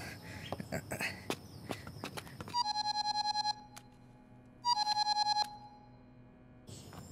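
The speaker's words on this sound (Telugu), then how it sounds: "బ్రదర్ ఫోన్ అందుకో." A phone rings with an electronic tone in two bursts of rapid, pulsing beeps, following a stretch of clattering knocks and taps, fairly loud and near.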